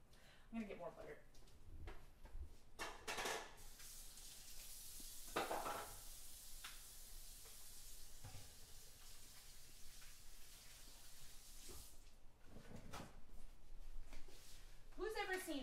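Butter sizzles quietly in a pan while steak cooks in a home kitchen, a soft steady fry broken by clinks and stirring, with a person talking over it.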